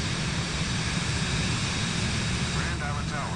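Steady broadband roar of a jet airliner's engines in Microsoft Flight Simulator 2024, a continuous even drone with faint tonal whine, carrying on without pause across the whole stretch.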